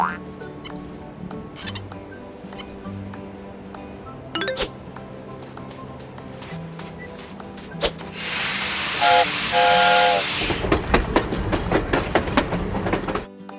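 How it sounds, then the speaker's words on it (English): Sounds from a train video game set on Indian railways: a locomotive being washed with a loud spray hiss lasting a few seconds, amid scattered clinks, chimes and game effects, with no talking. "We need to wash the locomotive."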